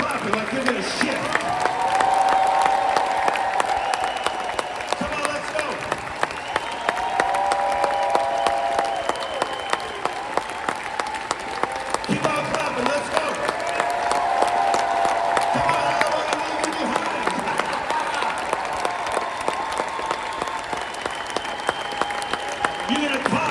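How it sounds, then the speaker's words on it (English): An audience at a motivational talk claps steadily and keeps it going, a dense sustained wash of many hands with cheering voices rising and falling throughout. "Come on, keep on clapping like you're gonna shift."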